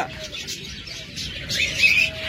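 Holland bloodline ringneck doves in breeding mode give mating calls, with soft repeated coos and chirps close by against a low, steady background hum.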